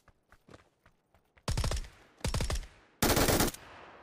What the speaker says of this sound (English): There's shots that way.